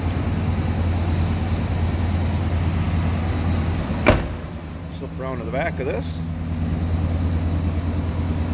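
A 1993 Chevrolet C1500 pickup with a stock 5.7 liter V8 idles smoothly and steadily throughout, a low constant rumble with a brief clunk partway through while someone talks over it.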